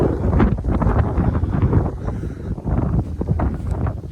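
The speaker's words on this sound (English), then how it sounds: "It's quite fucking windy too," Strong gusty wind buffets the microphone on a farm during barley harvest, a loud, rough, continuous roar with no talking.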